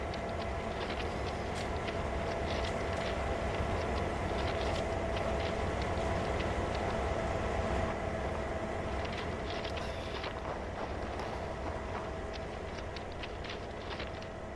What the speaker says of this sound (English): It says GP38 purring away.